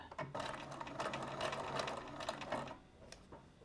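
A sewing machine running steadily through a short top stitch along a seam, a continuous close mechanical whirr that stops near the end.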